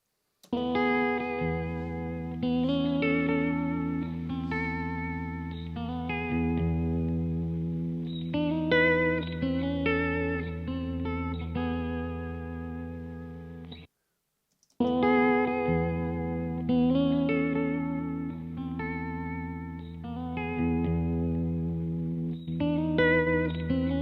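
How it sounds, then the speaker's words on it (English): A distorted, warbling instrument plays sustained chords with a wavering pitch, broken by a brief silence before the wobbly tones resume. "add distortion, bit of wow and flutter and that kind of stuff to the pitch"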